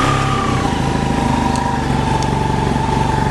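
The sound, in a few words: BMW F800GS motorcycle engine starting and idling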